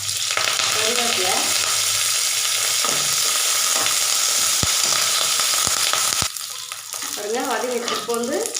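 Onion, dried red chillies and curry leaves sauté in hot oil with a loud, dense crackling sizzle that briefly drops in level, while a voice murmurs faintly in the background.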